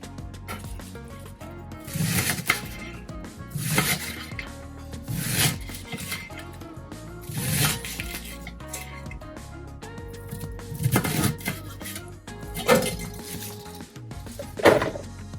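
A knife slices out the core of a cabbage on a cutting board, with crunchy cuts and board knocks repeating about every second or two at close range.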